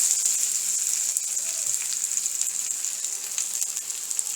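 Onion and green chili fry in hot oil for chicken biryani, a steady bright sizzle with fine crackling spits, fairly close and without talk.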